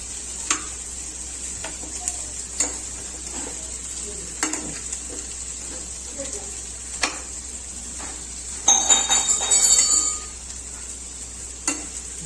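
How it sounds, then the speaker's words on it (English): Masala vegetables for a veg lasagna cook in a pan with a constant hiss of frying, punctuated by scattered spatula taps and a brief louder burst of scraping and stirring near the end. "I'm just going to stir it."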